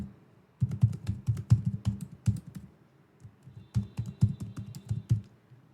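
Typing on a computer keyboard while filling in details on a form, two bursts of quick, close clicking keystrokes separated by a short pause.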